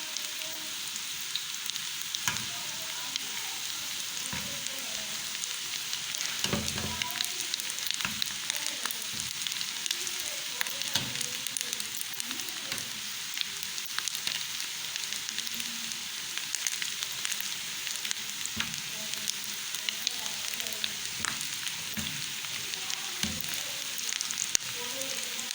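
Fish balls sizzling and browning in oil in a pan over raised heat, a dense continuous crackle with occasional scraping stirs, close and steady throughout.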